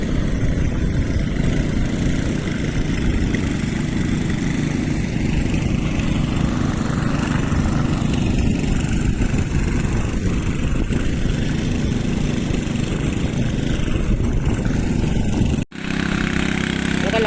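A tractor engine chugs steadily while working a muddy paddy field during rice transplanting in Kumbhavade, Rajapur, a continuous close mid-range drone that ends abruptly near the finish.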